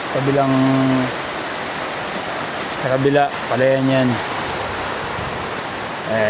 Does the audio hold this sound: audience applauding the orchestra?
no